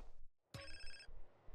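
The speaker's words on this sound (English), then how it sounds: "And another phone call." A telephone rings in Grand Theft Auto: San Andreas, one clear electronic ring burst after a brief hush, then the start of another, loud and close with no voices.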